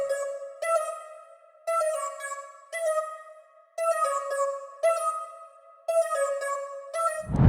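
A very simple synth lead from the Muffin preset in a music production session plays a repeating bright, plucky riff in short rhythmic phrases, heard alone and up close, with a low thump at the end.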